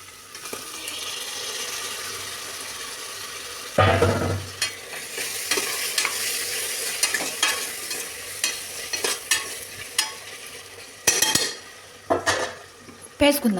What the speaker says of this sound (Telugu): బాగా కలుపుకుందాం. మంచి ఫ్రై అవ్వాలి.